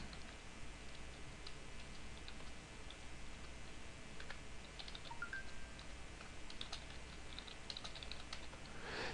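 Someone types code on a computer keyboard, with quiet, quick clicking keystrokes in irregular bursts over a low steady background hum.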